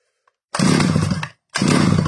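A Stihl 010 AV chainsaw starting up and running in two loud, close roaring bursts separated by a short gap, after a moment of near silence.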